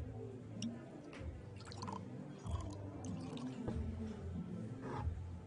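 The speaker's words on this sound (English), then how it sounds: "Can I pour you a glass?" A drink poured into a glass in Life Is Strange: True Colors, a soft trickling and splashing of liquid with scattered drips, faint and steady throughout.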